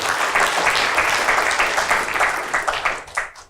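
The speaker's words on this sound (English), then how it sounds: "your applause is wasted on me" A crowd applauds loudly, a dense patter of many hands clapping that holds steady, then thins out and fades at the end.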